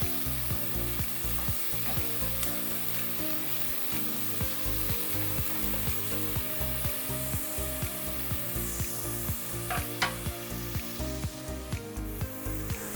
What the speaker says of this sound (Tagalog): Gisa lang natin yan hanggang sa lumambot yung kamatis.